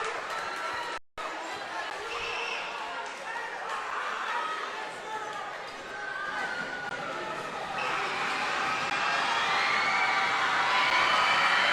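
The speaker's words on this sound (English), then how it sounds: "Crowd at max volume." Crowd noise at a high school girls basketball game builds from a steady murmur with bouncing balls and scattered shouts into a loud, sustained roar near the end, with voices talking throughout.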